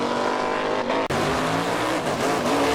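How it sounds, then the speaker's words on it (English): A Southeast Gassers drag racing car at Shadyside Dragway, its engine skipping and missing: loud, broadband engine roar fills the clip with an uneven, stuttering quality and a brief dropout near the start, heard close with no talk. "Rick Varner's car skipping, missing."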